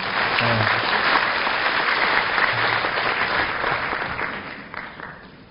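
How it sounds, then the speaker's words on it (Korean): An audience at a university entrance ceremony welcomes the president with strong, continuous clapping that stays dense and even, then tapers off near the end. "노백재 총장님을 박수로 맞이해 주시기 바랍니다."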